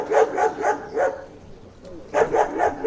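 Police sniffer dogs bark outdoors during a vehicle search in Brasilia: a run of four quick barks, a pause, then another fast burst of barking, moderately close.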